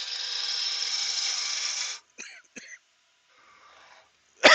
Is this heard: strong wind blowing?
no